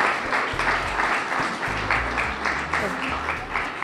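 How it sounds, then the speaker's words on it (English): Audience applauding at a school sports awards ceremony, a dense burst of clapping that holds steady for a few seconds, close and fairly loud. "So I want to give you guys a round of applause too for supporting."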